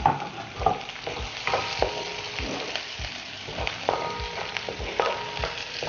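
Green chilies tossed into a pan and stir-fried for a Sri Lankan chicken meatball curry, giving a steady sizzle with repeated clinks and scrapes of the spoon on the pan, close and alone.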